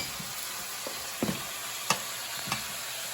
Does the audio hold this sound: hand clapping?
no